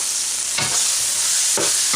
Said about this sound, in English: I'm going to add about 1/4 of a teaspoon of asafoetida of neem.